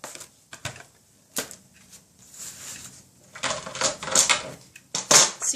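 Several sharp paper-cutting strokes from a Fiskars paper trimmer slicing card scraps, close and fairly loud, with a short burst early and denser rasping swipes near the end, no talk.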